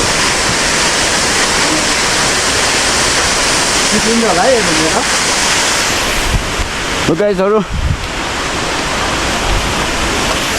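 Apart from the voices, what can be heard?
Mohoni waterfall in Chitlang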